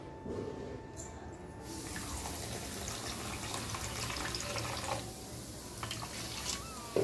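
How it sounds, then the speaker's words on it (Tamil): Water splashes and gushes steadily into a metal pot for sugar syrup, a continuous close pour with faint clinks near the end. "இது முங்குற அளவுக்கு தண்ணி விட்டுருவோம்."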